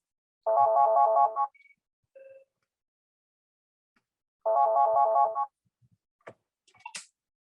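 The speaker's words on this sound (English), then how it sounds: "my work phone's going off" A work phone's ringtone goes off in two loud, close bursts about four seconds apart, each a rapid warbling electronic trill lasting roughly a second, followed by a few brief faint clicks.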